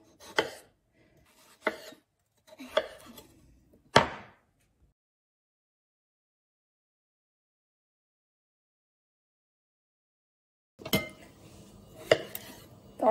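Sharp knife chops cubing potatoes on a cutting board, a few spaced strikes, then a long silence before a quicker burst of chopping resumes, close and crisp.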